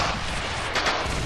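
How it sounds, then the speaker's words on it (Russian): Gunfire in the video game RimWorld comes as a dense, continuous rumble of shots and blasts, loud throughout the short stretch with a brief sharper burst near the end. "давайте прицельный выстрел Гринни"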